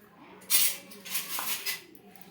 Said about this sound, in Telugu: ఎగ్ వేసుకొని అంతా బాగా కలుపుకోవాలి